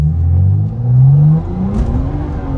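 A car pulled into second gear in manual mode for a street race down the middle of the road, its engine revving hard and rising in pitch, loud and close, then easing off before building again.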